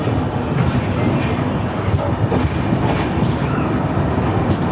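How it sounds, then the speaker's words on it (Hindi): Loud, continuous rumble and clatter of a moving train heard from aboard the Amritsar Nanded Sachkhand Express as it crosses another train, with steady wheel noise throughout and no voices. "पता नहीं कौन सी ट्रेन है जो हमारी ट्रेन को क्रॉस करने वाली है।"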